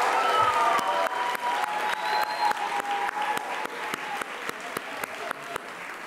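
An audience at a culinary school chef coat ceremony applauds the 2016 class, a sustained crowd of clapping with a few sharper individual claps standing out in a steady rhythm, moderately loud.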